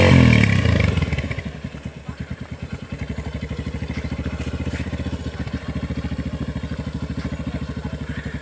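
A motorcycle ridden by a learner putters along in a steady rhythmic low engine throb with some clatter, revving briefly at the start, then chugging unevenly as gear shifts are attempted.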